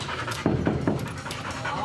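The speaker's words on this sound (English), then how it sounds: "I think I hear breathing." A guide dog pants close by, a quick series of rhythmic, breathy huffs over a low background hum.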